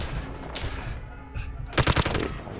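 Gunfire in Call of Duty Modern Warfare: a short, sharp rapid burst of automatic shots after scattered quieter pops and distant shots, with background game ambience.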